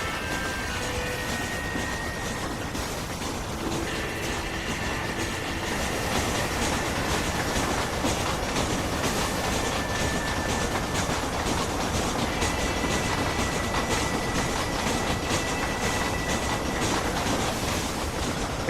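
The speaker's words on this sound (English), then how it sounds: "Riding the train." A train rides along in the video game Red Dead Redemption, a constant loud rumble with rattling clickety-clack and faint metallic squeals running throughout, no voices.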